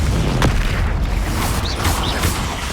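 A Confringo blast spell in Hogwarts Legacy, cast in Feldcroft, erupts as loud, dense booming bursts that follow one another and fill the whole stretch with rumbling explosive noise.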